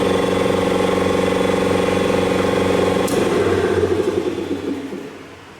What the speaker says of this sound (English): The Miller 400D welder generator will start, 5 horsepower air compressor.